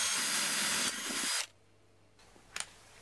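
A loud, steady whine of a power drill drilling an IKEA metal container for a hobo stove runs for about a second and a half, then stops abruptly, leaving a quiet room and a couple of small clicks.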